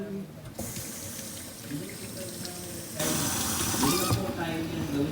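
Water runs steadily from a kitchen sink tap for washing vegetables, a loud continuous splashing rush that swells louder partway through.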